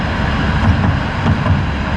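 A tram passes on a street in Poland, a loud, continuous low rumble and rolling noise filling the whole stretch, heard alone without talk.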